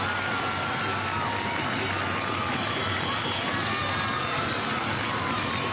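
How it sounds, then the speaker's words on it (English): A standing-room-only crowd at a San Marino football game roars steadily throughout, a dense, continuous wash of cheering and shouting that holds at a high level with no break. "Standing room only crowd getting into it now."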